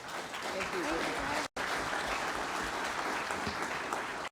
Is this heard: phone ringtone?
no